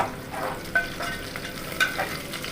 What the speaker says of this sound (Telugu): ఉల్లిపాయలు పచ్చిమిర్చి వేగిపోయాయి కదండి ఇందులో ముందు పెట్టుకున్న బగర మసాలా మొత్తాన్ని వేసిస్తాను వేసి కలుపుకుంటాను